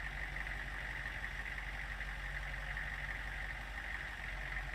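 A pickup truck idles in Farming Simulator 19 with a steady, continuous, rumbling engine drone that holds an even level throughout and has no talking over it.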